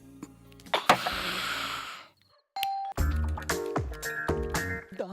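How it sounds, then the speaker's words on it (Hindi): A door chime rings at midnight, a bright ding-dong sounding a few times in quick succession after a short burst of noise and a held tone, fairly close and clear. "आधी रात को बेल बजा रहा है?"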